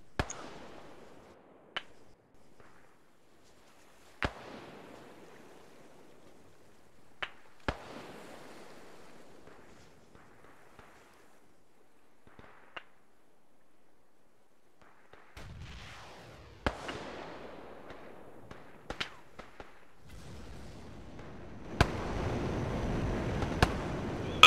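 Artillery rounds exploding in the ArmA III video game, heard as a scattered series of sharp, separate blasts and cracks across a long quiet stretch, some faint and distant, growing denser and noisier toward the end.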